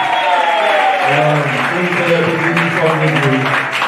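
A church congregation claps loudly and steadily together, with cheering and voices rising through the continuous applause.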